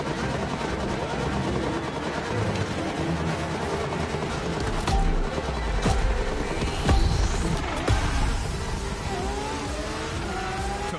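A Lamborghini Fenomeno racing in the video game The Crew Motorfest, engine roaring and revving through gear changes over a sustained loud drone, with occasional sharp cracks along the way.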